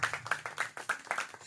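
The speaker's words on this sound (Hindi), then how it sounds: "एक बार जोर से ताली बजा दीजिए प्रियो।" A church congregation claps together during a Christmas sermon, a quick run of roughly a dozen crisp, rhythmic claps heard close and fairly loud.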